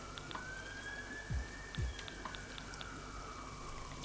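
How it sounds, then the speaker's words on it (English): A siren wails outdoors, faint and distant, its tone sliding slowly upward and back down, over a steady background hiss with a couple of low thumps. "Very siren-y out there"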